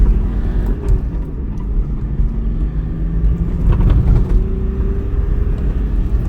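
A Nissan Patrol drives and accelerates through its gears, heard from inside as a loud, low engine rumble that swells and shifts with each gear change, with no talk.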